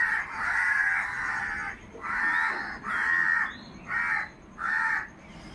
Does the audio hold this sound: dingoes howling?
no